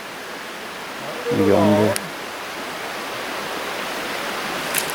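Steady broadband rush of fast-flowing water from a trout stream tumbling into a deep pool below a pine tree, continuous and close throughout, with someone talking briefly over it in the middle.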